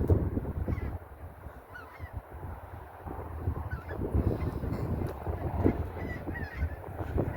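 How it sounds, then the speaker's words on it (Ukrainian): A flock of geese honking repeatedly overhead, calls overlapping and shifting, with a low rumbling background throughout. "гуси летять"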